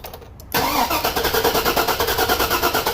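A 2004 Chevrolet Suburban 4x4 with a 6.0L engine cranks on the starter after a brief quiet moment, its steady rhythmic churning pulsing loud and close without catching.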